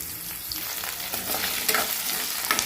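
Potatoes go into a hot pan of frying sabudana khichdi, giving a steady, close sizzle with stirring scrapes and a few brighter crackles, and no voices.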